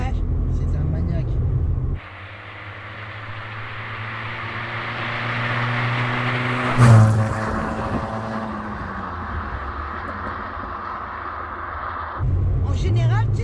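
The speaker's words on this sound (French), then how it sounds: "Là, on entend l'échappement." Exhaust note of a well-preserved classic GTI, a steady low droning rumble with a brief louder burst midway, steady and close, ending as talk resumes.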